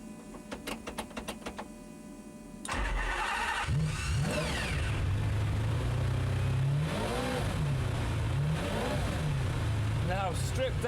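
Stripped-out race-spec McLaren without sound deadening: clicks and fuel-pump whir, then the engine fires and settles into a rumbling idle with several rising and falling revs, close by, with a voice talking early on.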